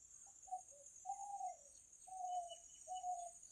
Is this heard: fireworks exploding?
no